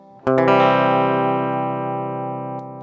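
A single strummed electric guitar chord through a humbucker pickup with both coils on rings out, full and sustained, slowly fading over a couple of seconds with no voices.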